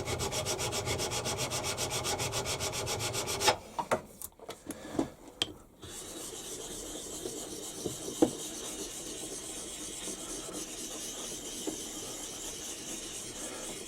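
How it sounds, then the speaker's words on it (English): A metal mini mag stand is draw filed, a steady close rasping scrape that pauses briefly with a few clunks of handling, then resumes as continuous rubbing. "draw file this to get myself a surface somewhere near"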